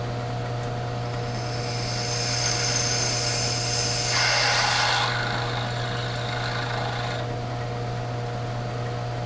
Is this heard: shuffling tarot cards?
no